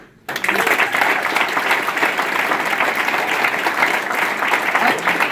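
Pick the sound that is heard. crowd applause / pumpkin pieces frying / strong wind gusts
crowd applause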